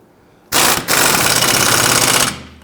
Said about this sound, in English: I'm going to try using our impact gun with an extension to come over the control arm underneath the axle using our swivel.